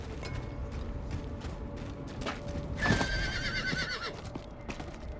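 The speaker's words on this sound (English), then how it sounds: "Oh, we just got a new horse." A horse in Diablo 4 neighs with one loud, shrill whinny in the middle, set against a steady game background with hoof clops and mechanical clicks.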